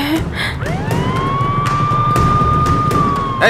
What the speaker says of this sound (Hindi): पहले एम्बुलेंस को रास्ता दो